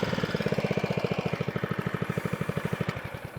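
A Kawasaki FJ100 engine on a Suffolk Punch Atco Allett mower idles close by, a steady, even thumping pulse of rapid regular beats, alone and moderately loud.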